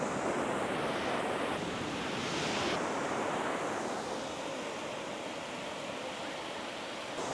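Ocean waves washing onto a beach at Gokarna, a steady broad roar of surf with wind noise on the microphone, continuous and fairly close, no talk.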